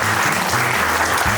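Applause from the audience at a college alumni reunion, a dense, steady clatter of many hands that fills the whole moment, with a low hum running beneath it.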